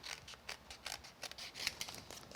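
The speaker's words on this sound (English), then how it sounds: "I'll just trim underneath that" Scissors snip paper for a scarlet-edged craft flower in a series of quick, close, crisp cuts with short gaps between them, no talking.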